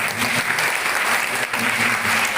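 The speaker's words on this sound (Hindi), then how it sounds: "भाई साहब के लिए एक जोरदार ताली हो जाए।" Audience at a Hindi devotional gathering breaks into loud, sustained applause, a dense steady clapping that fills the whole moment with only faint voices underneath.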